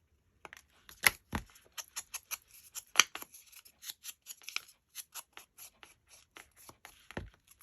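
Scissors snip through paper for a Christmas craft, close and crisp, in a quick irregular series of sharp cuts and rustles with no talking.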